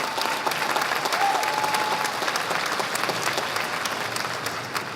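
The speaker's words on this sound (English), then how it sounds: "Please give them a round of applause." Audience applause at a Queensborough Community College commencement ceremony in 2017, many people clapping steadily in a large space, moderately loud and even across the whole stretch.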